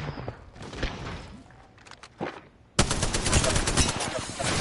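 Gunfire in the Predator video game, with a few scattered shots early on, then a sustained loud burst of rapid automatic fire in the second half, with voices talking underneath.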